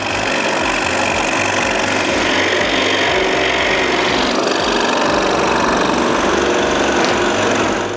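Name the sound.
cutting wood pieces for an intarsia lighthouse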